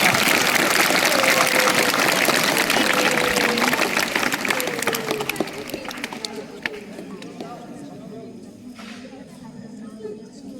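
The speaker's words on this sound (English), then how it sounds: "I request each and everyone to welcome our Ranger ma'am and the associates with a bunch of claps" Broad crackling applause from a school audience at a Van Mahotsav tree-plantation and cultural program, welcoming the ranger and associates; dense clapping for about five seconds, then thinning and fading into faint scattered claps and room murmur.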